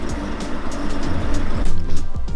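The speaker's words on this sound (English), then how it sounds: "It's a nasty little truck." A modified truck engine runs steadily nearby, a loud, rough, lumpy idle with a deep rumble that swells slightly toward the end, with no voices.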